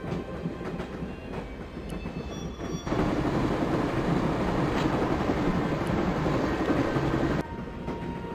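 A train rolls along the tracks in the Broken Sword video game, a steady rattling rumble with clickety-clack that swells louder midway and then drops back.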